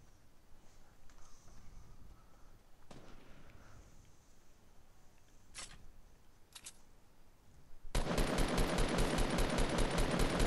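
Gunfire in Fortnite: a couple of sharp isolated shots in the middle, then a loud continuous burst of rapid automatic fire to the end.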